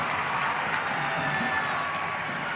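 Basketball arena crowd in a league finals game roaring just after a game-tying shot, a dense sustained wash of cheering and shouting at steady loudness throughout.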